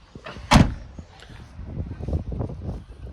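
The boot lid of a Citroën C3 Max crossover, closed over a 14-inch steel spare wheel, shuts with a single sharp, solid thud up close, followed by quieter handling noise and low ambient rumble.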